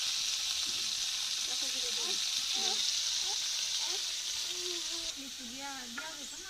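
Fish fries in a pan with a steady, bright sizzle that runs throughout, while people talk quietly over it.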